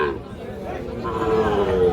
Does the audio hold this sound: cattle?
yes